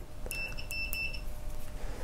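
A multimeter set to continuity gives a few short, high electronic beeps in quick succession while testing a broken-off relay lead in solder, over a faint steady background hum.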